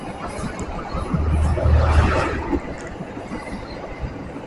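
A passenger train runs along the railway line toward Solo Balapan station in Indonesia. Its rumble and clattering wheels swell to a loud peak in the middle, then fade as it passes.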